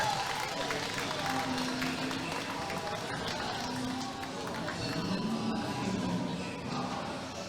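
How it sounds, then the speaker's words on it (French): A crowd applauds a competitor at an under-18 qualification event, a continuous wash of clapping and crowd noise with a voice over a loudspeaker talking through it. "Applaudissements pour Jonas."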